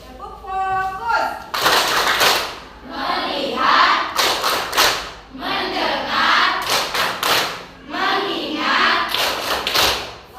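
Students in a classroom perform a rhythmic clapping chant, loud bursts of claps and thumps repeating in regular groups between chanted words, several times in a row.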